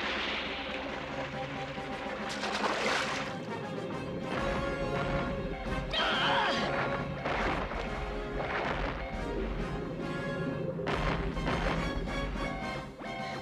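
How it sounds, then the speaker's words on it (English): Cartoon depth charges detonate underwater near a submarine in a G.I. Joe animated episode, a dense run of loud booming blasts and crashing impacts layered with a rumbling music score, with several sharp bursts of noise spread across the stretch. "Bombs, or rather depth charges, away!"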